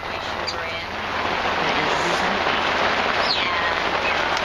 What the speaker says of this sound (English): And you can hear the rain on the roof.